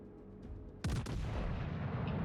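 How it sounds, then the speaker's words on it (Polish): Secondary battery guns on the warship Lyon fire in World of Warships: two sharp, loud booming shots in quick succession, then a rumbling tail over steady background hum. "Widać, że sekundarka strzela."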